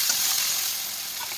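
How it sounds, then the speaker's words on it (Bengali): A masala of ginger, garlic, green chilli and tomato paste sizzles and fries steadily in a pan, a soft continuous hiss heard up close with no talking. "মশলাটা ভালো করে কষিয়ে নেব।"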